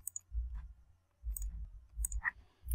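A computer mouse clicks while someone works in CYPECAD software, a handful of quiet, crisp, separate clicks spaced irregularly with faint background hum.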